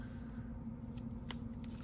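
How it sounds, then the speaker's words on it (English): Scissors cut strips of quilt batting with a few quiet, crisp snips near the end, heard alone against a low background hum. "So we'll cut a couple of strips"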